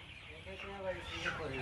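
Farm chickens cluck repeatedly while being caught by hand, the short calls rising above a steady background with voices nearby.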